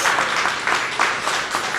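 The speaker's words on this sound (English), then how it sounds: "Can we give them a round of applause?" Audience members clap for student representative candidates after a school board debate. The applause is close and loud, with a busy, uneven patter of many hands in a short burst.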